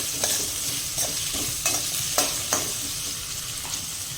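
Potatoes stirred into a pan with curry leaves for sabudana khichdi, a steady close sizzle broken by several sharp scraping strokes of the spoon at irregular intervals, with no voices.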